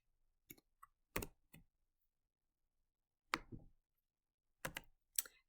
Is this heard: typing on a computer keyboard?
yes